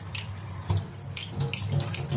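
Pasta cooking water being poured out of a pan to drain, a short splashing pour with a few louder gushes and trickles.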